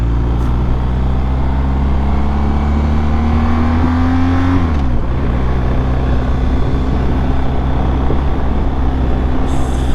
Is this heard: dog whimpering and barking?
no